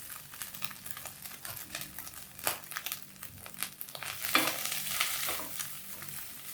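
Grated coconut frying in hot coconut oil in a pan, a steady crackling sizzle with stirring scrapes and rustles, close and continuous with a brief louder burst midway.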